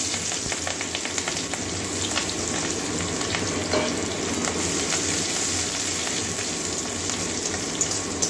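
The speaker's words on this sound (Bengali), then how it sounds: "পেঁয়াজটা একটু লাল লাল করে ভেজে নেব।" Chopped onions and green chillies frying with whole cumin in a pan, a soft, steady sizzle that carries on evenly throughout without any talking.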